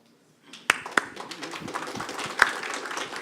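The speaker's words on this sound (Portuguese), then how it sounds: "As palmas estão desanimando." Scattered audience clapping at a strategic planning forum, starting after a brief silence with a few sharp isolated claps, then a thin, uneven patter that stays modest and does not build into full applause.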